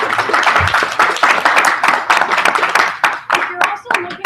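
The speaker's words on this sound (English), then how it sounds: "So one more round of applause," Applause for Maria at a science teachers' conference session breaks out as a scattered, fairly close round of clapping that thins into separate claps toward the end, with voices mixed in.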